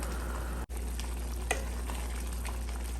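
A pot of jaggery and sago prathaman, a sweet pudding, bubbles at a steady boil while being stirred, giving a continuous soft sizzling, churning wash with one brief break partway through.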